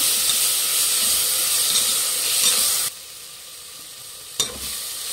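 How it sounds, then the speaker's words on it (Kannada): Ginger garlic paste frying in hot oil for a plain kushka rice dish, a loud, dense sizzle that drops off sharply partway through, then returns softer with a brief stir clatter near the end. "ಈಗ ಶುಂಠಿ ಬೆಳ್ಳುಳ್ಳಿ ಪೇಸ್ಟ್ ಹಾಕೊಳ್ಳೋಣ ಫ್ರೆಂಡ್ಸ್. ಇದು ಹಸಿ ವಾಸನೆ ಹೋಗೋವರೆಗೂ ಚೆನ್ನಾಗಿ ಫ್ರೈ ಮಾಡಬೇಕು"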